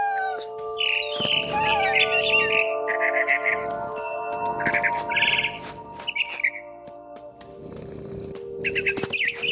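A barn swallow in the video game What Remains of Edith Finch chirps in several bright, rapid twittering bursts, alternating with soft low rumbles over a sustained tonal hum.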